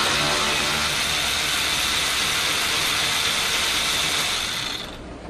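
Close ratchet wrench turning 8mm bolts on the radiator hose clamps of a 1998 Jeep Cherokee XJ, a steady, loud continuous clicking that runs for several seconds and eases off at the end, with no talk.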